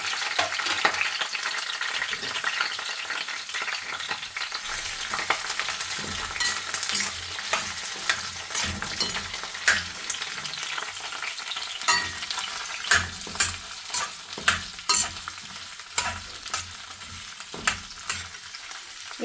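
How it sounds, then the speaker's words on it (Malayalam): Onion, capsicum, ginger and garlic sautéing in hot oil in a pan, a steady loud sizzle broken by repeated sharp scraping and clacking of a spatula stirring, with no talking. "നമുക്കിത് ഇട്ടിട്ട് വാട്ടിയെടുക്കാം."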